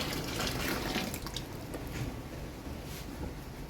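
Boiling water is poured over a bag of beer kit extract, producing a steady liquid splashing and trickling sound that is moderately close and continuous, with no speech.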